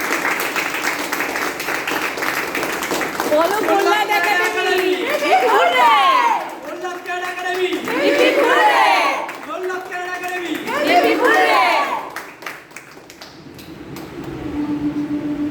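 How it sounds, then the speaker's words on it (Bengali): Loud applause and cheering from a crowd at a karate winners' celebration, clapping rising in three strong waves and fading toward the end, with chatter mixed throughout. "এদের প্রত্যেকের জন্য একটা জোরে হাততালি"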